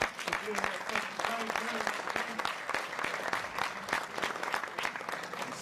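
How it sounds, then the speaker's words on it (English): A university lecture audience breaks into a large, sustained round of applause, dense clapping running steadily throughout at close range. "please give yourself a large and healthy round of applause"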